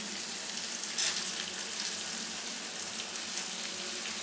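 Rice fries with masala, green peas and green chili in a pan, a soft, steady sizzle with light stirring scrapes and one brief louder burst early on, no talk.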